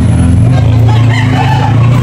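A rooster at a gamefowl sale in Tabunok, Talisay, Cebu crows loudly and close over a steady low hum for about two seconds.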